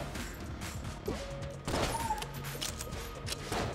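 Charged shot from the Mega Man buster gun in the Enter the Gungeon game fires amid busy gunfire and crashing effects, with a rising charge tone, a bright burst and a steady clatter of action beneath.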